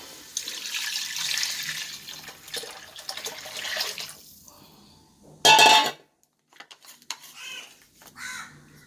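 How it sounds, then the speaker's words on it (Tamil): A tamarind, shallot and spice-powder mixture is poured into a simmering Kerala-style trevally fish head curry, giving a loud wet rush for about a second after hissing sizzle, followed by light clinks and stirring. "புளி சின்ன வெங்காயம் குழம்புலகா பொடி மல்லிப்பொடி எல்லாம் சேர்ந்தது தான் இந்த கலவையை ஊற்றிடலாம்"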